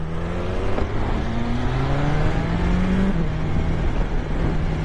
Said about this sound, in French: Je vais vous laisser un peu avec le bruit du moteur.